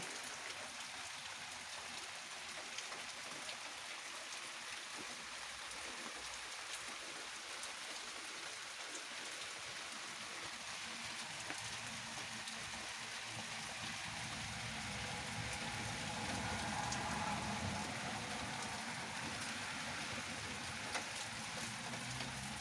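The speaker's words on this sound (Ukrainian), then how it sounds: "Сьогодні 3 серпня і в нас іде дощ, дуже сильний дощ іде." Steady, heavy rain hisses and patters continuously for the whole stretch, a dense even wash of sound with no voices.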